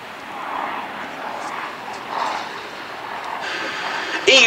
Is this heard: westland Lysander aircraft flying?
yes